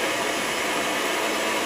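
An electric mixer grinder (mixie) running in a home kitchen, a loud steady whirring drone throughout, with no voices.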